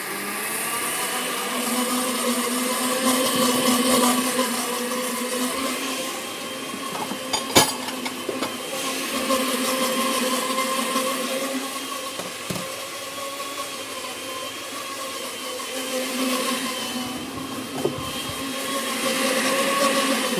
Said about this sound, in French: Mon jus que je verse dans les petits pois et je mixe l'ensemble finement.